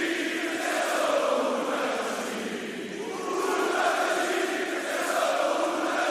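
A large European crowd at a live WWE SmackDown wrestling show roars and chants in a dense, continuous wall of noise, swelling slightly and never dropping out, with no clear voices above it.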